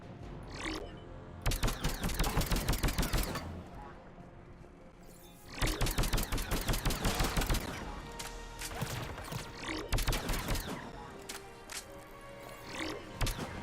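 Bursts of rapid gunfire from the Mass Effect 3 game come in dense, loud volleys separated by short pauses, with sharp repeated shots and crashing impacts.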